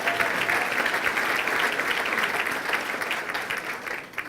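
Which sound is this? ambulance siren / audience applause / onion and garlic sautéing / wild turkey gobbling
audience applause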